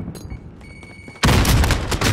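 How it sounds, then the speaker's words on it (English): Video game gunfire erupting in a loud dense burst of shots halfway through, after a quiet stretch of faint interface tones, close and forceful to the end. "I shot him though"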